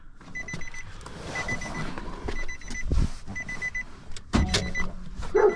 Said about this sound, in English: I do hear the starter click.